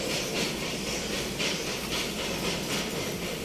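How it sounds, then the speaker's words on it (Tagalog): An LPG cutting torch hisses steadily and loudly while cutting pipes at a sugar mill during the repair season, a continuous broadband rush with slight pulsing surges and no talk. "Ang LPG diin amo ang gigamit sa pagcutting sa mga pipe."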